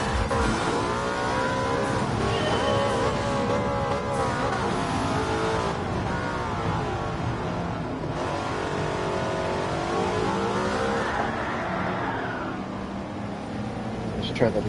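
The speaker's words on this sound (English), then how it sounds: "Classic F1 car versus rally cars." A classic Formula 1 car's engine in Gran Turismo 7 revs hard and steadily with rising and falling pitch under near-constant talk, loud and close throughout.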